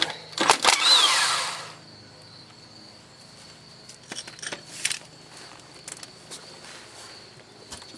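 A power tool removes the 13 mm differential cover bolts on a 1995 Jeep Cherokee, with a loud burst of whirring at the start, then quieter intermittent clicks and rattles as the bolts come loose.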